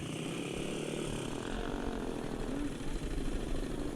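Number 72 racing snowmobile in a Kitty Cat or 120 class race at Traverse City, its small engine droning steadily with a raspy, buzzing whine over broadband outdoor noise throughout.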